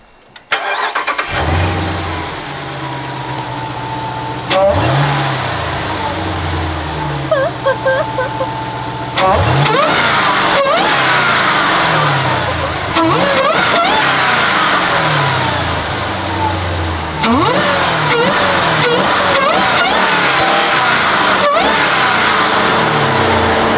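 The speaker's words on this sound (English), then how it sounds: "I think it's time we see if the supercharger can whine even more." A Jeep Trackhawk's supercharged engine starts and revs hard repeatedly, loud and close, each rev climbing with a rising supercharger whine before dropping back to a rumbling idle.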